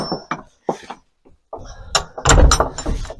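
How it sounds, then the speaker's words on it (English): A heavy wooden church door is pushed open and swung shut, with creaking and scuffing that ends in a loud, deep thud close by. "pretty meaty door actually."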